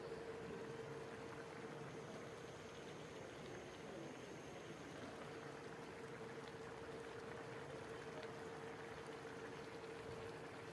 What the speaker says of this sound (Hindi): अब इसको हल्की आंच पे भूनेंगे।